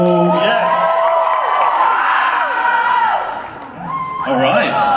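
Crowd at a Playlist Live vlogging panel cheering, whooping and shouting as the panelists walk out, a loud sustained roar with scattered high voices, briefly dipping before swelling again.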